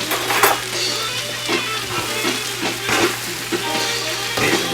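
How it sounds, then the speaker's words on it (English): A whole bag of spinach is stirred into a hot frying pan alongside garlic, onion and coconut. A continuous loud sizzle is broken by repeated scraping and stirring strokes close by, with no talking. "So I'll go ahead and try and stir that in."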